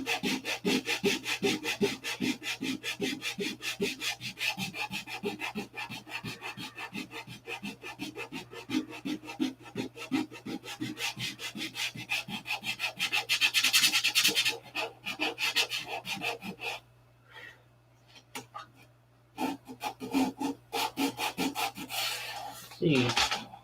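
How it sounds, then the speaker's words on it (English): Rhythmic hand sanding of Superfill filler compound scrapes back and forth on a hard surface, fast and steady strokes, then pauses and a few scattered rubs near the end. "You can't ask for easier sanding stuff than this Superfill."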